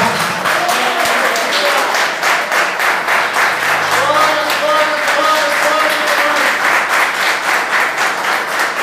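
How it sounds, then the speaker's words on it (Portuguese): A church congregation applauding, a dense, continuous, fairly loud wash of many hands clapping in a steady pulse, with voices carrying over it throughout. "Aplauda Jesus por isso."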